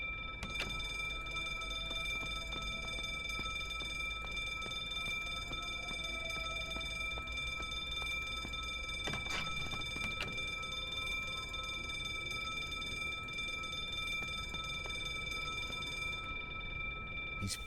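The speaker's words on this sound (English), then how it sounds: "He's fiddling with the alarm" An alarm in The Drifter game rings with a steady, high electronic tone that holds throughout. It stays faint against background noise, with a brief clatter of handling midway.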